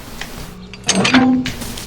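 A door creaks open in the game Hello Neighbor, a short scraping, squeaky swing lasting about half a second over faint background ambience.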